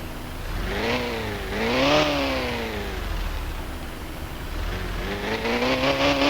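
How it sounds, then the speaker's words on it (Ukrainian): A Honda car engine in a car simulator video game revs up and down in repeated swells, loud and close, its exhaust note rising and falling. "Заводимо її, можу включити вихлоп."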